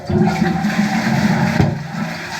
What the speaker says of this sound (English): The flusher for the toilets is on the wall like this. So you just press the button